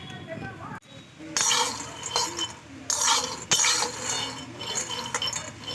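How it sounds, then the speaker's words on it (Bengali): Peanuts dry-roasting in a hot pan without oil give off a steady bed of dense crackling and popping, with bursts of clinking as they are stirred and tossed, under a person speaking nearby. "দেখুন বন্ধুরা, কি সুন্দর ফুটফাট করছে।"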